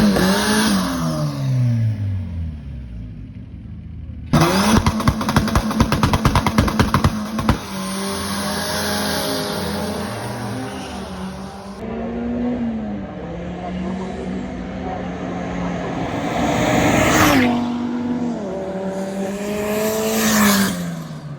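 Drag racing cars launching and accelerating down the strip at a South African drag event. Loud engines rev and climb through the gears, with sharp crackling bursts and a sustained roar that rises and falls across the run. No talk is heard.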